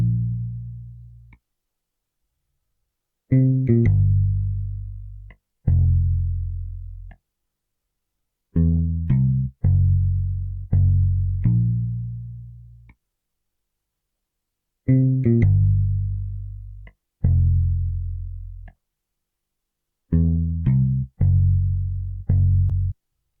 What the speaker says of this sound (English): I then added a bass from Modo Bass, and the preset name is J Bass